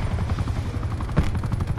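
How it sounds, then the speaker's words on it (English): An attack helicopter in an online shooter game thrums with a steady low rotor chop, close and continuous, with a brief sharper burst partway through and no talk. "That was definitely their attack chopper."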